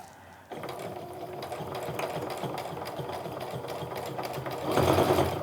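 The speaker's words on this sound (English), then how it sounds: "So I'm going to go a little slower as I go through this bulky area." A sewing machine stitches through bulky fabric of a clutch bag, running steadily with a rapid mechanical rhythm, close by, speeding up slightly toward the end.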